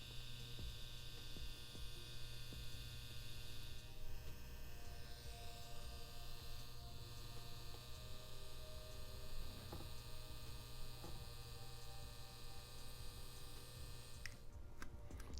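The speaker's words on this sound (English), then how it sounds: "this is going to be the EvoTech S tattoo machine from Easy Supply" EvoTech S tattoo machine from Easy Supply running with a cartridge needle, a steady close electric buzz and hum that holds unbroken throughout, with a few faint clicks.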